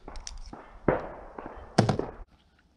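A Beretta U22 Neos .22 pistol firing at a target, a few sharp cracking shots spaced unevenly, fairly close and loud, followed by quiet.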